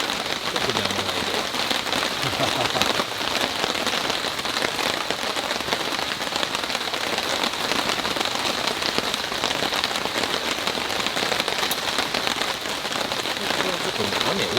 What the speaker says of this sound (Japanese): ちょっと雨多いんだよ。